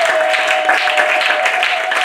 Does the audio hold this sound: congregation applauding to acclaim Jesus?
yes